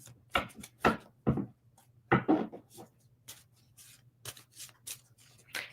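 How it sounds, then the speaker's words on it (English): Tarot cards shuffled by hand close up, a series of sharp riffling and slapping bursts with brief pauses between them, over a faint steady hum. "The cards do not want to shuffle for you"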